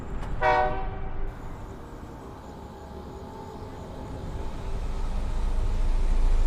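A loud train horn blares briefly at the start, then a steady rumble of a moving train continues and swells toward the end.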